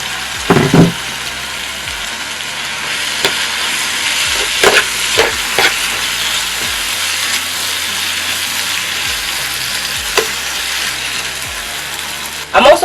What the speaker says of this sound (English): Our tomato has been frying really nicely, so what I'm going to add into this now is the fish.